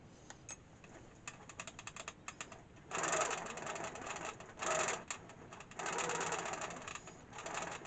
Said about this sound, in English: First load of stitches on the hoop frame with the 15R.